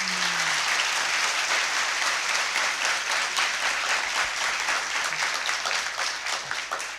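A church congregation applauding during a Palm Sunday service, dense, continuous clapping that holds steady for several seconds with little else heard.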